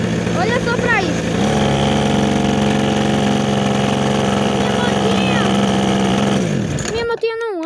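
Small motorcycle engine idling with an uneven, wavering note, loud and close, with pitch sweeps as the revs change before it cuts out near the end; a voice speaks over it.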